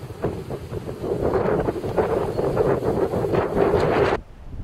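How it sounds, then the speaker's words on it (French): Strong wind buffets a microphone outdoors in a wooded game park, making a loud, continuous rumbling roar with gusty swells that stops abruptly near the end. "Il y a beaucoup de vent"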